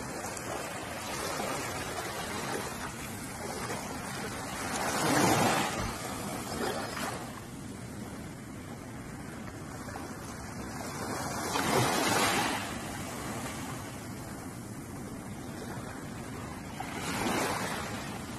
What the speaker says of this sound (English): listen to the soothing sounds of the waves